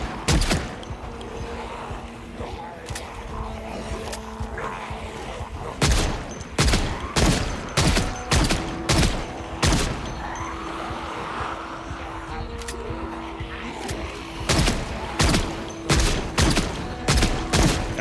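Repeated .45 pistol shots in the zombie survival game Project Zomboid, loud sharp cracks fired in irregular bursts over a steady background hum, with several quick pairs and clusters.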